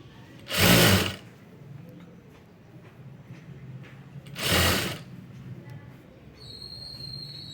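Two short, loud bursts of a sewing machine stitching piping onto a blouse, each roughly half a second of rapid mechanical whirring, separated by quiet handling noise near the machine.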